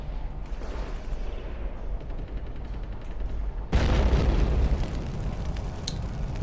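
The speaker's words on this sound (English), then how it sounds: "There's that explosion." A sudden loud explosion in the video game Tom Clancy's Splinter Cell bursts in after a stretch of low rumbling and faint clicks, its roar lingering and slowly fading.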